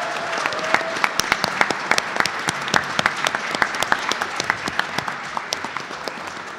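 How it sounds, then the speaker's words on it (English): A crowd at Summer Games Done Quick 2017 claps steadily after a Freedom Planet speedrun, dense overlapping applause with sharp individual claps standing out, continuous for several seconds. "give them all a round of applause"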